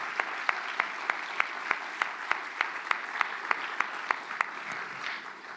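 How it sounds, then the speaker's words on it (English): An audience applauds at a school magnet program meeting, a steady wash of clapping with a rhythmic, evenly spaced sharper clap cutting through, moderately distant and continuous throughout. "let's give a round of applause for all of our magnet programs"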